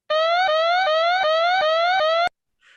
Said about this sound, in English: I've got an alarm.